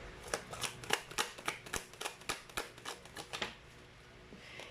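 A deck of tarot cards is shuffled close up, a rapid run of about a dozen crisp riffling snaps in a steady rhythm, quiet and alone, ending with a short softer rustle.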